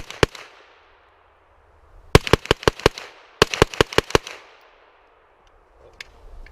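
A PSA AKV 9mm fires at an outdoor range: one shot, then two quick strings of about six sharp cracks each, loud and close, with the echo fading between them.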